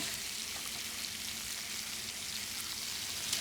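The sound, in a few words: lamb sizzling while frying in a pan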